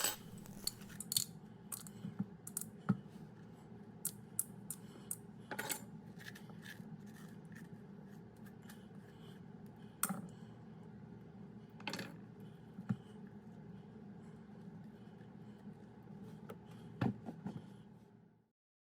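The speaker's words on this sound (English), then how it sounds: "scrape out all of the insides of the pumpkin, all the seeds and all of the stringy parts of the pumpkin" A spoon scraping the seeds and stringy insides out of a hollowed pumpkin, with faint, sparse, sharp scrapes and clicks spread over a quiet background.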